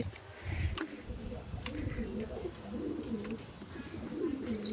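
Pigeons coo repeatedly in soft, rolling phrases close by, layered over a faint background hum with occasional quiet voices.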